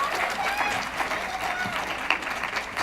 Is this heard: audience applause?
yes